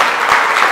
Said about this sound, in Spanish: Entonces, vamos a darse un aplauso.